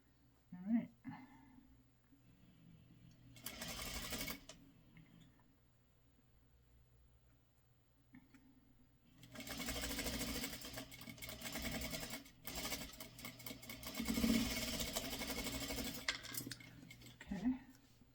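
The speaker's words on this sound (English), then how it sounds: "Now I sew with the triangle on top." A sewing machine stitches triangle quilt pieces for a Santa cap from a pre-cut fabric kit, running in a short burst and then a longer steady whir, with faint clinks between runs.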